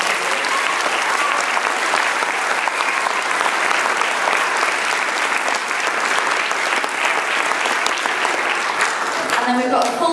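Audience at a school nativity play giving a long, loud, steady burst of applause that fills the room, with no pause, while a voice speaks faintly under it near the end.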